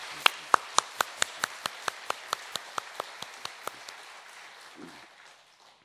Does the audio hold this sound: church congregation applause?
yes